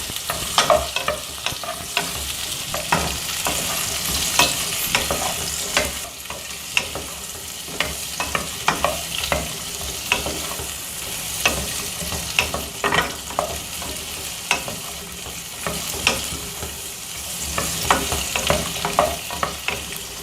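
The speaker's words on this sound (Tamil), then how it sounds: "நல்லா வதக்கிக்கலாங்க. கொஞ்சம் உப்பு சேர்த்துக்கலாங்க." Garlic, green and red chilies and curry leaves sautéing in a pan for chow chow chutney, a continuous sizzle punctuated by frequent sharp spoon scrapes and stirring clicks throughout.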